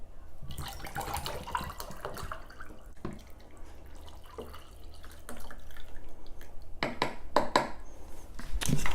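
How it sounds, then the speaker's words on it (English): Water poured into drinking glasses for a lunch setup, heard as dripping, splashing pours with clinks of glassware, growing louder and busier toward the end, no talk. "Let's put water in each of these."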